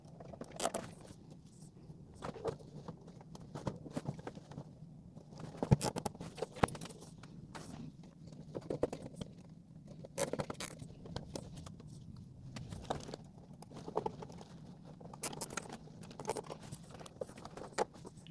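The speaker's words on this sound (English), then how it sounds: "Install 5 new zip ties to secure the various printer cables" Zip ties are tightened around the cable bundle of a Neptune 4 Max 3D printer, giving close, sharp ratcheting clicks and small rattles in irregular bursts against a quiet room, with no talking.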